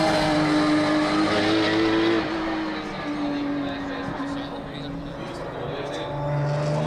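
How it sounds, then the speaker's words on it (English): Porsche race cars lapping a circuit in Riga during a Baltic endurance race, a loud continuous engine drone with shifting pitch as cars pass, under steady commentator talk throughout. "Slimas is now almost 2 seconds per lap faster than Čapkauskas, and building up the gap in front of second Porsche."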